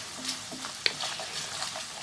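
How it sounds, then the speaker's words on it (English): A steady, bright sizzle of ginger and garlic frying in a hot pan, with a light clink of a utensil partway through and no talking. "while that ginger and garlic is just frying off"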